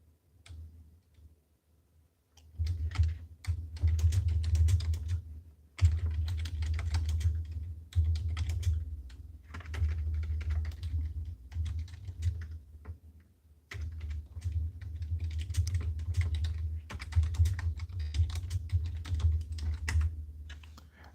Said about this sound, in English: Guys, bear with me. I'm typing it.